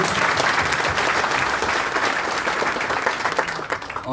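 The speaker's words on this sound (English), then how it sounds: "a round of applause." A room full of attendees at a Canterbury Bankstown chamber of commerce business event gives a round of applause, dense and steady clapping for about four seconds, loud and close, fading slightly at the end.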